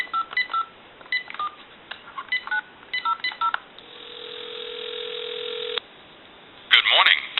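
Touch-tone DTMF beeps dial a number on a General Electric 6.0 cordless telephone under repair, in short, evenly spaced bursts. A steady dial tone follows, then it cuts off and a brief burst of noise comes through the line.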